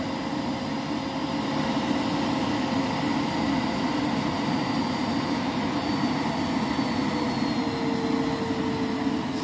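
A Lindhaus Aria Elite vacuum cleaner running at its lowest setting, a steady, even airy whir and hum that stays constant throughout with no talking.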